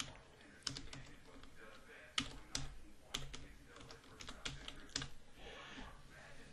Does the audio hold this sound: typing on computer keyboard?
yes